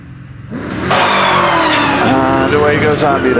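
A 3.5 litre Brabham BT30X sports racing car accelerates hard away from the line at the Prescott hillclimb. The loud, close engine note climbs steeply in pitch after a brief idle.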